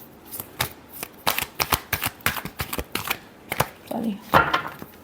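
Tarot cards are shuffled close up in quick, irregular riffling bursts of crisp flicking, with a faint voice near the end.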